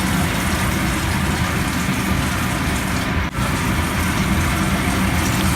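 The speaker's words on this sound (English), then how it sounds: "So this is my first glass of water." A glass of water poured into a pot of vegetable pulao with masala, a steady loud gushing stream that runs continuously with a brief break near the end.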